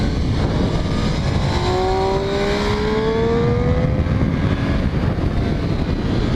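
Motorcycle held in second gear accelerating hard out of a tight corner onto the straightaway at Thompson Speedway, Connecticut, with loud steady engine roar and a rising whine climbing in pitch, over constant wind rush.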